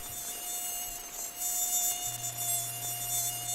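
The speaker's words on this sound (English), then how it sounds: "Cue mosquitoes." Mosquitoes whine as a sound effect, a thin, steady high-pitched buzz held close and continuous, with a low hum joining in the second half.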